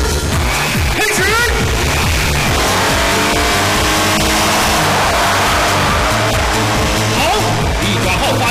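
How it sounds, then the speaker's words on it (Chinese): A six-wheeled cartoon race car accelerates hard in a televised race, a loud shrill engine whine with rising and falling pitch sweeps and tire noise, continuous throughout with other racing cars and commentary mixed in. "力转号发出刺耳的声音"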